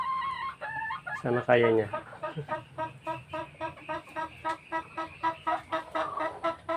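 Several hens cluck in a steady run of short calls with one rooster crow among them, nearby on a small backyard flock, while a person talks over them.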